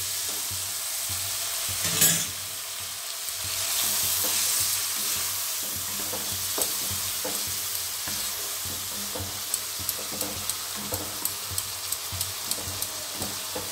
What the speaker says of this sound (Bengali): একটু সামান্য জল দিচ্ছি।